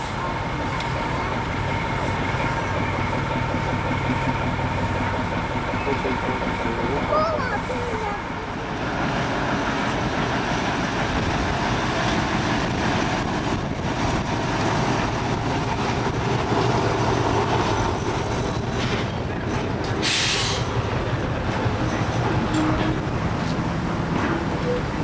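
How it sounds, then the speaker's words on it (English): BR Class 14 diesel hydraulic locomotive D9526 shunts a goods train in a shed yard, with a steady engine rumble and rolling wagon noise throughout and a brief sharp hiss near the end. "we find visiting BR Class 14060 diesel hydraulic locomotive, number D9526, shunting the goods train in the shed yard"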